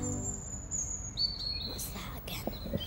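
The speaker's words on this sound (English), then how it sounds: "It's a robin." A robin sings in a garden, giving thin high whistled notes and a few brief chirps, faint and somewhat distant over a quiet outdoor background with soft murmuring.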